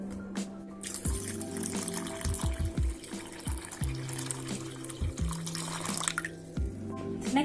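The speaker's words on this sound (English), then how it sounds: "Okay, next I need to get some water." Tap water runs and splashes into a container for cooking pasta, a steady close stream with uneven gurgles and drips, faint and alone without talk.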